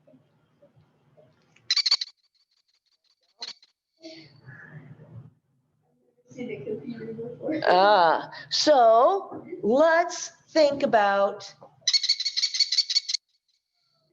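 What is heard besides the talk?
American kestrel calling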